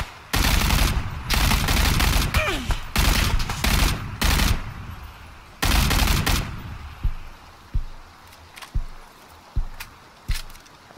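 Gunfire in PlayerUnknown's Battlegrounds from a silenced weapon, long loud bursts of rapid shots, then a series of separate single shots spaced about a second apart.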